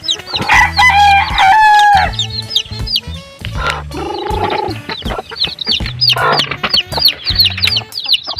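Chickens cluck and chatter close by while a rooster crows repeatedly over them, loud, busy farmyard calls overlapping through the whole stretch.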